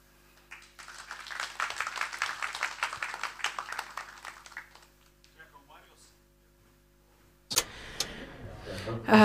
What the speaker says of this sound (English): Let us have a round of applause for Marijus